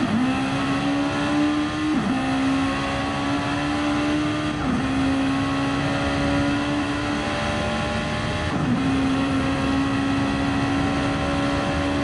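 Race car at Le Mans accelerating hard toward Arnage, a loud, steady engine drone climbing in pitch with brief dips at gear changes, three shifts heard close and continuous throughout.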